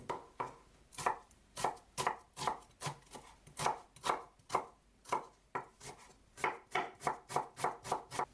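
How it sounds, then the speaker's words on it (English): Knife mincing an onion on a cutting board, a steady series of crisp, close chops in an even rhythm, with no voices. "Mince an onion,"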